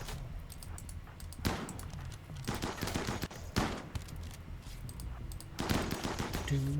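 Gunfire in the video game RimWorld comes in several rapid automatic bursts separated by short lulls, loud and close.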